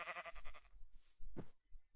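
Sheep in Minecraft give one short, nasal bleat near the middle of a quiet farm scene, with another faint blip before it and no talking.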